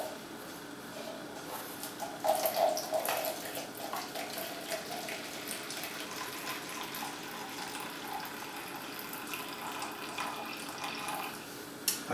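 Hot wet hop liquid drains from a HopRocket on Grainfather brewing gear into a jug, a steady close trickle and splash of running liquid with no talk.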